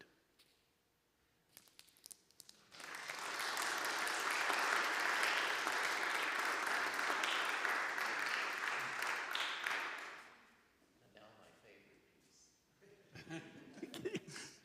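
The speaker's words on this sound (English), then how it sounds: "may I have applause for Richard and Will tonight?" Applause from an audience swells after a couple of seconds, holds steady and full for about seven seconds, then fades, with scattered chatter and laughter afterward.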